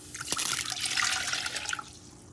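Water poured into a pot for rice, a short splashing gush that runs steadily for about two seconds and then stops, close and moderately loud, with no talking.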